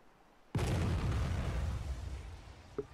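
An artillery charge strikes in the military video game ArmA 3, hitting near a boat: a sudden loud boom that rolls into a long, rumbling roar and slowly fades, followed by a small distant pop.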